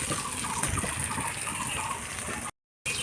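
Water gushes steadily into a raw banana kofta curry cooking in a pan for a couple of seconds, then cuts off into a brief silence.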